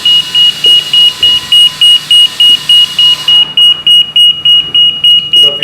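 A landing system's vacuum alarm beeps loudly and steadily, a rapid, evenly spaced string of sharp electronic tones repeating without pause, up close.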